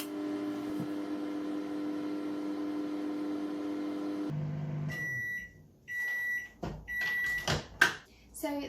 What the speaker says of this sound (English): I'm going to put this in the microwave for 1 minute.